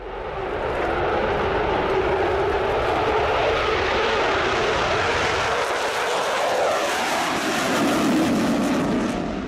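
A loud, steady roar of a Eurofighter Typhoon fighter jet engine, sustained throughout with a slight swell toward the end.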